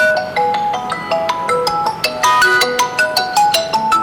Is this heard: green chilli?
no